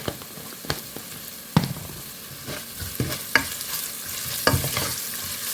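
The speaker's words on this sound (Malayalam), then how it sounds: "നന്നായിട്ട് ഇളക്കി കൊടുക്കുക, കരിയിക്കാതെ." Sardine curry masala being stirred in a frying pan in a Kerala-style fish curry, with close, loud spatula scrapes and knocks at an irregular rhythm over a steady sizzle.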